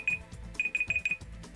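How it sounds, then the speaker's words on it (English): A kitchen timer alarm going off in short bursts of high electronic beeping, several quick pulses in irregular groups, fairly quiet and close, with no talking. "sorry about that, just my timer was going off"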